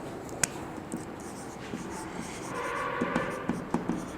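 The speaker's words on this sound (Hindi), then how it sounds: "फर्स्ट लिख रहे हैं हम लोग" Someone writes a lesson on organic chemistry nomenclature, with scattered taps and scratchy strokes at an irregular pace. A faint voice is in the background.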